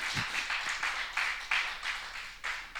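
A congregation claps in a church service, a short burst of several loud rhythmic claps from a nearby crowd.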